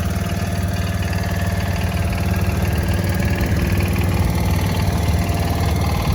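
A 140H1 engine runs steadily, a loud, close, continuous rumbling drone with an even pulsing throb and no voices.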